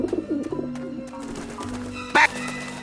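Rooftop pigeons cooing in the game Grim Fandango Remastered, a few low warbling coos up front, then a quieter stretch and a sharp brief flutter or clatter, over a faint background hum.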